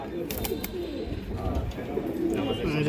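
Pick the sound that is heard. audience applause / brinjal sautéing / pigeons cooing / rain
pigeons cooing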